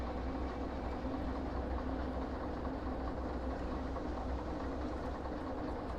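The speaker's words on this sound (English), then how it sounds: "Especially with the engines running constantly, it can get a little irritating." Train engines running in a train-driving video game: a steady, loud mechanical drone with faint rhythmic rail clatter, continuous throughout and without talk.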